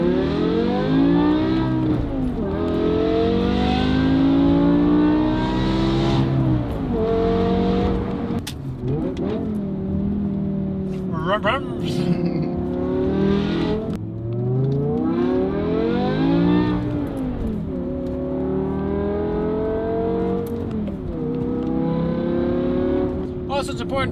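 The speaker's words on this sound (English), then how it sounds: "that is the best sounding E60 M5 out there, bar none." A BMW E60 M5 with its V10 engine and Valvetronic Designs valved exhaust on stock headers, revving repeatedly in loud, close rising and falling sweeps, with brief pauses between pulls and a voice talking at moments.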